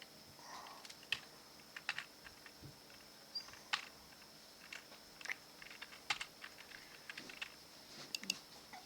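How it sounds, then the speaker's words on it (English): Keys clatter on a computer keyboard in irregular bursts of taps and clicks, close and moderately loud, with no voices. "That's good keyboard practice"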